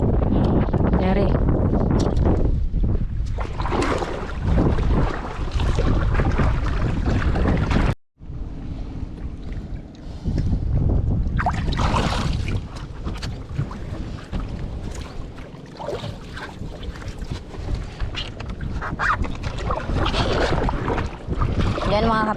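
Strong wind buffeting the microphone out on the water near a small boat, a loud, continuous roaring rush with one brief cutout, voices talking over it.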